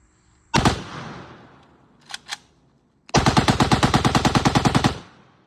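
An airsoft gun bump-fired at a paper target, sounding as one loud burst, a quick pair of shots, then a long rapid even string of about twenty close, sharp reports with a short echo.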